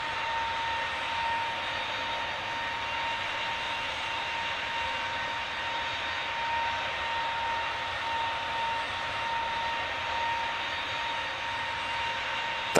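An Airbus A330 jet passing in Microsoft Flight Simulator 2024, a steady, even engine drone with a sustained whine, moderately loud and unchanging for about thirteen seconds, alone without speech.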